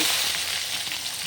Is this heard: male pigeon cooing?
no